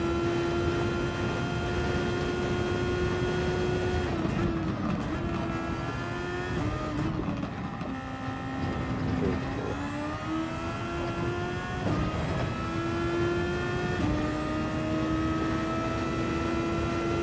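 Race car engines in Gran Turismo 7 during a daily race, a loud sustained high-revving drone with repeated pitch drops at gear shifts and climbs back up, continuous and close throughout.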